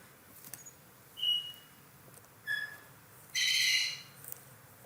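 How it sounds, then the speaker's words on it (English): An African grey parrot in the background giving a few short whistled calls and a brighter, more complex squawk, faint and intermittent, spaced a second or so apart against a quiet room. "We have African gray parrot and she talks like crazy"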